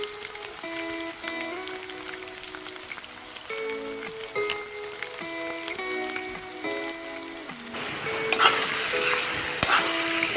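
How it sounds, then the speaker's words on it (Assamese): Marinated duck meat and pumpkin fry in a pan for an Assamese-style duck curry. Tonal music plays through most of the clip, and a bright, hissing sizzle with light stirring clatter rises clearly near the end. "এতিয়া মই গোটেইখিনি অলপ সময় ফ্ৰাই কৰি লওঁ"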